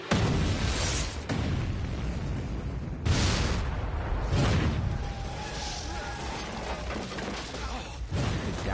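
Explosions from the Burn Notice TV action series, with broad booming bursts and rumbling blasts recurring across the stretch, loud and dense, with no talking.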